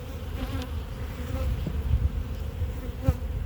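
Honey bees buzzing on a hive frame held up in spring, a steady close low drone with occasional louder passes of individual bees near the frame.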